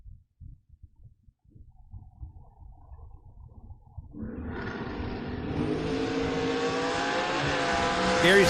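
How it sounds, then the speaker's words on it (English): A supercharged dragster at a drag race idles with low, uneven pops, then launches into a loud, rising engine roar that climbs steadily in pitch and volume to the end. "Rooting his driver on in the Overkill Motorsports Dragster."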